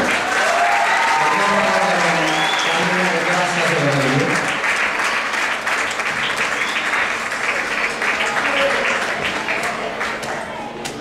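A live audience applauds performers after a garba number in a Gujarati stage show, loud sustained clapping filling the space throughout, with voices and music fading beneath early on.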